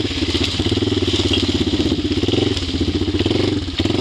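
A 1995 Yamaha Timberwolf 4x4 ATV's plow plates grind and scrape over rock on a steep slope beneath a loud, steady, close engine rumble, with harsh clattering bursts near the start and end.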